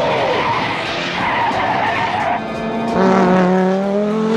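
A 1984 G1 Transformers Optimus Prime, a red toy truck, is paired with a loud, sustained tire squeal and skidding screech that wavers in pitch for several seconds, like a race car peeling out.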